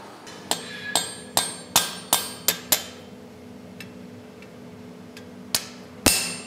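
Hammer strikes on a rivet joining forged balcony railing parts: a run of about eight sharp, ringing metallic blows at a steady pace, then a pause and a few more louder hits, close and without talk.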